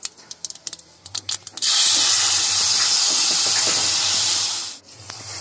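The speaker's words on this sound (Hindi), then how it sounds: "अब हम इसके अंदर अपनी टमाटर प्यूरी डाल देंगे" Tomato puree hits hot desi ghee with curry leaves in a pan, a sudden loud, steady sizzle bursting in after a few small clicks and lasting about three seconds before cutting off.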